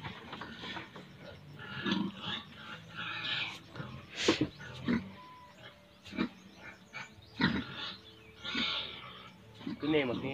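Pigs grunt and squeal on a backyard farm at harvest time, with irregular bursts of loud and softer calls and people talking intermittently nearby.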